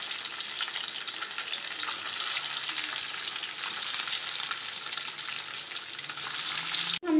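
Rice balls fry in a pan after being added, making a dense, even, close-up sizzle that holds for several seconds before a brief clunk and a louder burst at the end.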